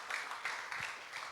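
Congregation clapping at a Sunday morning church service, a short, faint patter of many hands heard from a distance.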